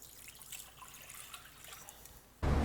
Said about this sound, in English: let's go ahead and put us some water in this old crock pot over here